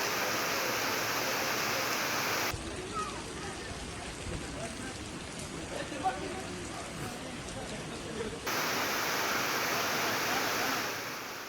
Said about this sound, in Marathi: डोंगर रांगांमधून वाहत येत फेचाळ कोसळणारा हा धबधबा भाविक आणि पर्यटकांना खुरावतोय